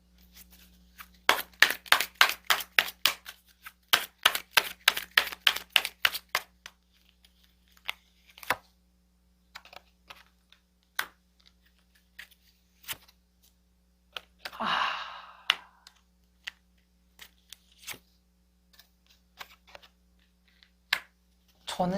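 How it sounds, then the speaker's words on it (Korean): Tarot cards are shuffled in quick rapid riffle bursts, then drawn and laid down with scattered soft taps and slides, close and quiet with no talking. "추가 카드를 뽑아보도록 하겠습니다."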